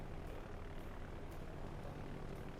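Four torpedo bomber planes in the World of Warships naval game drone past as a dense, steady propeller roar, loud and unbroken with no voices.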